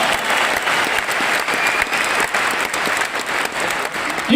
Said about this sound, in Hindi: तो सबसे पहले मैं एक बार जोरदार तालियां चाहता हूं उन लीडर्स के लिए